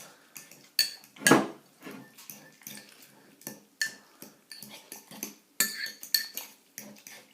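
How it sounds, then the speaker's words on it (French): A metal fork pressing and crimping the dough edges of an apple tart against a dish, giving a string of irregular clinks and scrapes, close and fairly sharp, with no talking. "on va juste l'écraser, la tourner et l'écraser sur les bords avec une fourchette"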